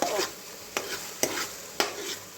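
Peanuts frying in a pan and stirred with a spoon, four rhythmic scraping strokes roughly half a second apart over a continuous close sizzle.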